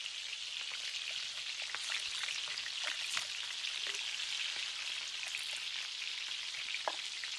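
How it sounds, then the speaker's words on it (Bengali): Eggs frying in hot oil in a wok give a dense, continuous sizzle with scattered sharp pops and crackles, steady and fairly close throughout, with no talking. "এবার আমি ডিম দিয়ে দিচ্ছি।"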